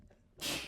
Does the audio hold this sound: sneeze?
yes